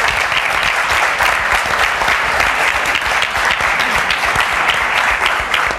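Loud, sustained audience applause for a panel of women at a conference session on Latin America's future, a dense, even roar of many hands clapping throughout with no talk over it.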